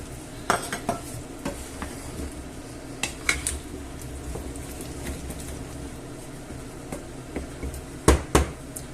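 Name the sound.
stirring potatoes into clam stew in a pot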